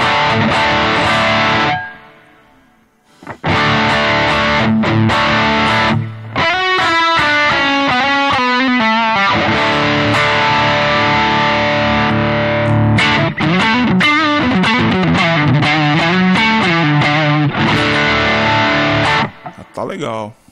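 Electric guitar played through a Zoom G1on multi-effects pedal set with heavy reverb and distortion, loud and sustained with washing reverb tails and a short pause near the start.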